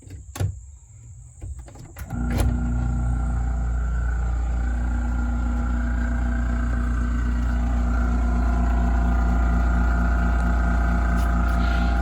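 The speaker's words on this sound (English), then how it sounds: "Down here is the compressor." An air compressor starts after a couple of seconds of quieter rustling, then runs as a loud, steady mechanical drone with a strong low hum that continues unbroken to the end.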